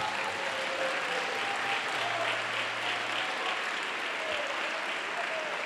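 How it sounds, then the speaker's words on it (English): A church congregation applauds steadily for about six seconds during a worship service, a dense, even wash of clapping that stays at a constant level from start to finish, with faint tonal murmurs or vocal sounds running underneath. "Give the Lord a rousing round of applause."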